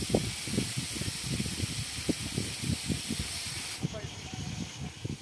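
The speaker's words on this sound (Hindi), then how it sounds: "एक एक पीस को हमें अच्छे से फ्राई करना है दोनों साइड से।" Chicken tikka pieces fry in a hot pan, a steady broadband hiss and sizzle running throughout, close and moderately loud with low thumps and crackles scattered through it; the hiss thins out near the end.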